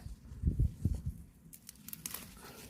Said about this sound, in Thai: ทีนี้ก็มาเด็ดเอาผักบุ้งไปใส่ก๋วยเตี๋ยวนะคะ